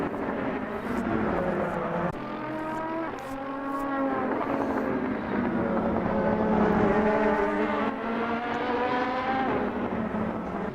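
Several race cars in a multiclass sim-racing championship rev and pull away together, engines droning and rising in pitch through the gears, loud and steady throughout with overlapping whines and no talking.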